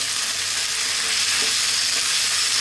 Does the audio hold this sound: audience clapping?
no